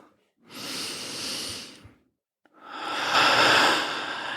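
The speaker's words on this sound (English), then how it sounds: "Take a deep breath." Two deep breaths during a guided relaxation exercise: a long slow airy inhale, a short pause, then a fuller, louder exhale, close and alone with no talk.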